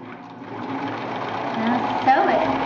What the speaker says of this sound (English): I just follow the lines that are on my sewing machine.